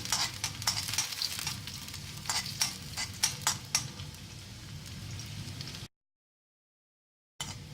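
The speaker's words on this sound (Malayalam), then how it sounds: "ചെറിയ ഉള്ളി, ചെറിയ ഉള്ളി ഒന്ന് മൂപ്പിച്ചു കൊടുക്കാം." Small shallots sizzling and crackling in hot oil for a purple yam curry, a steady close frying hiss with occasional stirring clicks, then a brief total silence before the sizzle returns.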